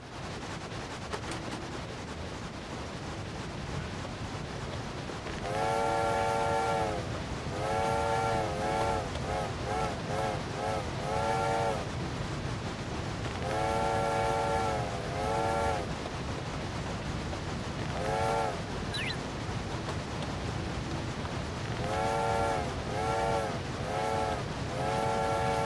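A train rumbles along the rails with a continuous low rolling roar, while repeated loud whistle or horn blasts sound in several bursts over the running noise.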